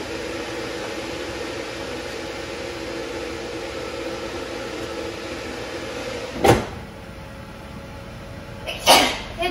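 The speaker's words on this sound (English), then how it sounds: "Achoo!" One sharp sneeze cuts through steady fan-like background noise in a kitchen where an air fryer is running, followed a couple of seconds later by a second short sharp burst that is close and fairly loud.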